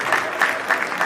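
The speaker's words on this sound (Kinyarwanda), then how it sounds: "amashyi menshi kuri byose banyamuneka" Applause from guests at a wedding reception, a steady wash of clapping with a few louder swells, filling the short moment with no voices above it.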